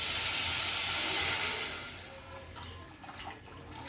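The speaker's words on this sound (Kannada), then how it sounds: "ಈಗ ನೀರು ಹಾಕ್ತಾಯಿದ್ದೀವಿ ಫ್ರೆಂಡ್ಸ್." Water pours into jaggery while making sweet puri, a steady close hissing splash that runs loud for about a second and a half, then thins into fainter trickling and small drips.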